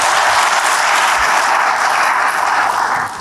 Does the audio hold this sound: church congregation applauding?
yes